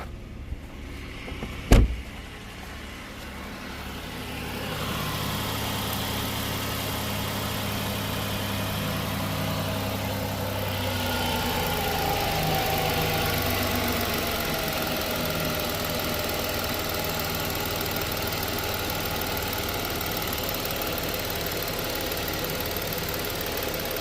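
A 2013 Ford Edge with an oil leak, heard close up: a sharp click as it cranks, then the engine catches and settles into a steady, even running hum that continues alone for about twenty seconds.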